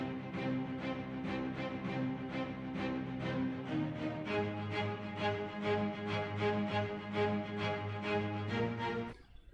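Orchestral string rhythm loop in FL Studio, short repeated bowed notes pulsing in a steady even pattern over a sustained low harmony, shifting to a new chord partway through, moderately quiet with no voices.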